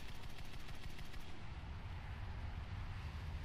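Aircraft cannons fire in a Ho 229 dogfight in War Thunder: a rapid run of close gunfire bursts over a steady engine roar, then the firing stops and the roar continues.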